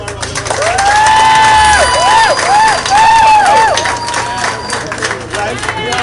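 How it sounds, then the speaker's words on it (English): A crowd at a steelband panyard judging event applauds and cheers for the mayor. Loud, continuous clapping is joined by whoops and rising-and-falling cheering voices close by. "Let's give him a round of applause."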